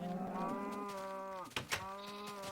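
Cows mooing in the Minecraft video game, a drawn-out synthetic bellow with a steady pitch that dips and breaks off near the end. A shorter low call follows close by at moderate loudness, with no voices.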